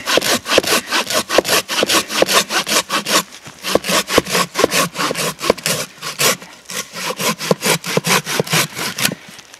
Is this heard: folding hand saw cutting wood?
yes